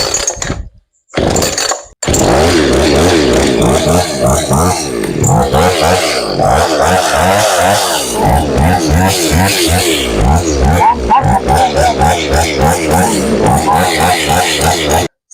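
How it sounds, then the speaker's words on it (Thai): A Kanto KT-CS2000E chainsaw engine pull-starts after a couple of short tugs, then runs loud and close with a steady buzzing, rising and falling as the throttle varies, briefly cutting out before resuming. "กดช็อคปิดกลับไปแล้วก็ สตาร์ทอีกรอบหนึ่งนะครับ"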